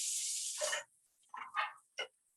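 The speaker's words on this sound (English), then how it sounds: "And then I could give it a little tiny bit of spray." Cooking spray mists over crab cakes in a few short hissing bursts, one longer spray followed by three quick puffs, close and quiet with no voices.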